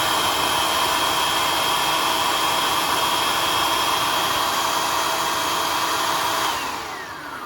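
A food processor chops ingredients for a spaghetti alternative with a loud, close, continuous motor whir and whine that holds steady, then winds down at the end.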